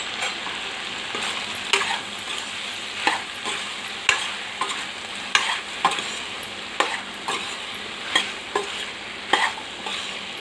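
Brinjal curry pieces being stirred in a pan, a spoon scraping and clacking against the metal in a steady rhythm of sharp strokes over a soft continuous sizzle, close and fairly loud with no voices.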